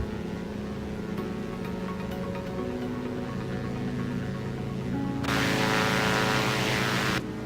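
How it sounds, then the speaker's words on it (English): Twin-engine Aero Bask DA62 in X-Plane 11 flight simulator, a steady propeller drone with tonal hum holding throughout, jumping to a louder, brighter broadband roar for about two seconds near the end before settling back. "Sometimes that engine noise gets a little loud."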